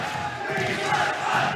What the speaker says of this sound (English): They're cheering for their boy.